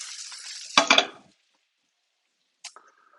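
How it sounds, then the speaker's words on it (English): Carrots in a frying pan sizzle and rattle briefly as they are stirred, a short burst of clatter and hiss that cuts off, then a faint scrape near the end. "Give the carrots a little stir."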